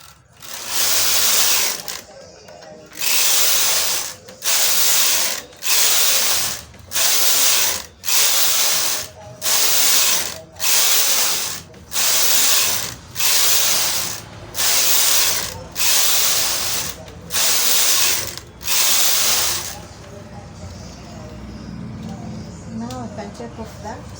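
A knitting machine carriage is pushed back and forth across the needle bed for rows of a chunky brim hat, giving a loud, steady series of about fourteen whooshing, clattering passes separated by brief pauses.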